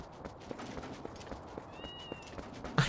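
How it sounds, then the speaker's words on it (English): Cats meow in the video game Twilight Princess: soft, faint mewing calls sit over a quiet backdrop of soft regular footstep-like taps, with a brief louder burst at the very end. "I can hear them meowing."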